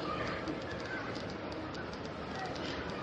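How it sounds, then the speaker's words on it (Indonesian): A young piung bird coos close by, its soft calls running continuously over a steady background hiss, with no talk over it. "oh ya ini kan burung piung muda"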